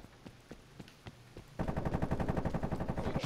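Video game gunfire: a few spaced single shots, then a sustained rapid automatic burst with a steady rhythm, moderately loud and without talk.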